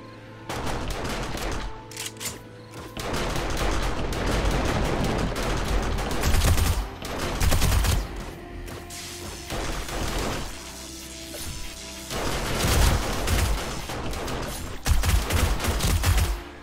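Repeated gunfire in the survival game 7 Days to Die, with bursts and single shots spread across the whole stretch amid crashing impacts, loud and close, with no one talking.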